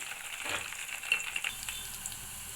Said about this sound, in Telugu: ఆనియన్స్ కొంచెం ఆనియన్ వేసిన తర్వాత మిర్చి కూడా దీంట్లోకి యాడ్ చేయాలి